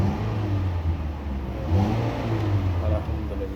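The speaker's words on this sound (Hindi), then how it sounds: "ये देखें गाड़ी अभी स्टार्ट है" A 2016 Ford Fusion engine runs steadily after starting, a constant mid-pitched hum with a slight swell partway through, heard close and alone without talk.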